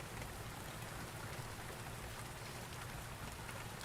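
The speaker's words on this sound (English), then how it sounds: "I can't hear you over the rain." Steady, dense rain falls without a break in the video game Rainswept, a loud, even hiss filling the scene from start to finish with no voices over it.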